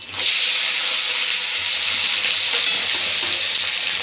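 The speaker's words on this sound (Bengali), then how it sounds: "আলুগুলোকে একটু ভালো করে ভেজে নেবো" Loud, constant sizzling of potatoes frying in oil, a dense hiss that starts abruptly and holds steady, close up.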